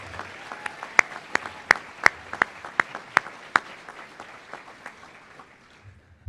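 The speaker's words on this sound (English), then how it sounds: "Let's have a big round of applause for all 32 side teachers of the year" An audience at a school district awards gala claps for teachers of the year, a scattered crowd of claps with a few loud, sharp ones up close, gradually tapering off.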